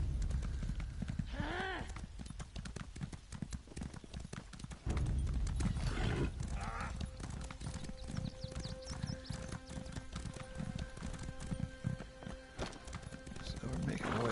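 Horse hooves clip-clop steadily in a video game, with a whinny rising early on, moderately loud under continuous narration and background game sounds.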